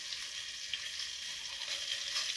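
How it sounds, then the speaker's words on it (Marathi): Eggplants sizzle on a tawa griddle under a covering plate, giving a steady, even hiss of frying that holds constant throughout with no talk. "वापल्याशिवाय मित्रांनो तव्यावर वांगे टाकले त्याच्यावरती आपल्या ताटाने झाकून ठेवलंय"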